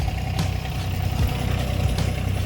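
A tractor engine idles steadily while warming up at a barn restoration site, a close, continuous low rumbling throb with no talk.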